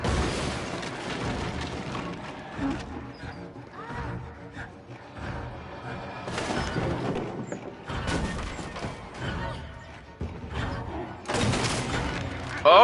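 Gunfire in a horror-style video game aimed at a TV, loud bursts of shots and booms in several clusters over a dark ambient background, no talk.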